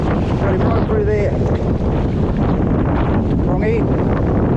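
Strong wind on a very windy day while salmon fishing, a dense, steady roar buffeting the microphone throughout, with faint voice-like tones briefly audible beneath the gusts.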